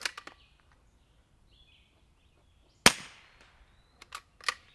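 A single suppressed rifle shot from a rifle fitted with an SD Tactical Arms M22 suppressor, firing CCI standard ammunition: one sharp, clear crack that rings briefly in quiet surroundings, followed by faint clicks and handling noises.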